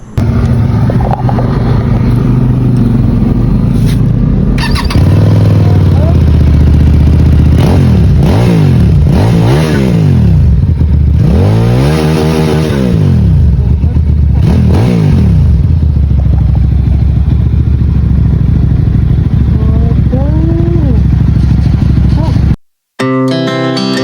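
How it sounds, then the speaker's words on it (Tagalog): A stock-muffler QJ Motor SRV400 motorcycle engine revs repeatedly, close and loud, its pitch climbing and falling in several throttle blips over a steady idle, with music or voices faintly mixed underneath. "Stock muffler, sound check, SRV400."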